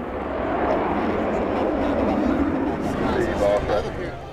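A military jet flies over at the Oshkosh airshow (EAA AirVenture 2019), a steady loud broadband roar with commentary spoken over it throughout.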